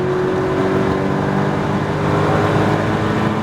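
A Porsche Cayman GTS on a track pulls hard under steady throttle, its engine note a loud, continuous drone that rises slightly through an upshift.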